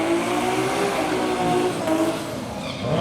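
A single-turbo BMW M4 accelerates hard at a UK car show, a loud, close, continuous engine roar with a rising rasp and some tyre noise, without speech.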